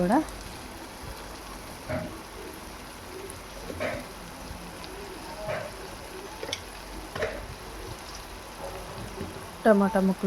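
Tomato pieces cooking down in a pan over a medium flame for an egg curry, giving a soft, steady sizzle with occasional light stirring clicks and a brief burst of utensil scraping near the end.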